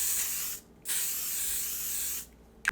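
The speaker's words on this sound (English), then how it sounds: "I'm going to go in my matte setting spray." Two long hissing bursts of a matte makeup setting spray, close by, separated by a short pause, with a faint click at the end.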